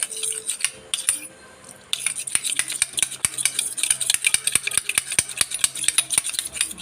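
Spoon clinking and scraping against a bowl while shampoo mixed with sugar is stirred, a rapid run of small close taps with a brief pause near the start, no talking.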